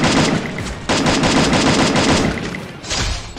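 Rapid automatic rifle fire in a shooter video game, including a SCAR, with loud continuous bursts of shots, a brief break, then more firing, close and alone.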